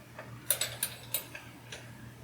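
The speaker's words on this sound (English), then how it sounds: "So we just screw these into the backplate." Cooler mounting hardware for a Thermalright Silver Soul 110 is threaded into an AM4 backplate, producing a short run of faint, light metallic clicks and ticks, close to the microphone over a low hum.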